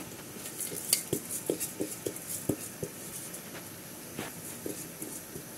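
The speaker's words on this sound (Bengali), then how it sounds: "পোলাও চাল দিয়ে রেখেছিলাম, সেটা দিয়ে দিচ্ছি।" Washed polao rice, about a kilogram, goes into a cooking pot with scattered light clinks, rattles and scrapes, fairly quiet and close, with no one speaking.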